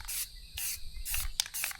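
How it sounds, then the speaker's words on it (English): Aerosol paint sprayed inside the cabin vent hole of a Lexus GX470 body to stop rust, in three close hissing bursts with short pauses and a faint rattle of the can between them. "What we're doing is painting the inside of it to try to keep it from rusting from the inside out."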